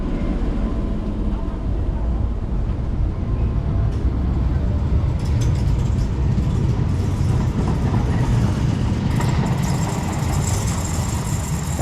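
A Tyne and Wear Metro train pulls out of Stadium of Light Station, its steady rumble and rail noise continuous and fairly loud throughout, with faint voices nearby.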